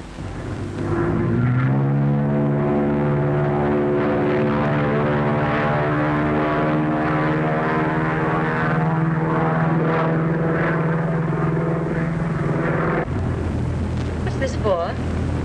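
A propeller airplane drones loud and steady in flight in a 1936 film, its engine note settling into a constant harmonic hum for most of the stretch before shifting near the end.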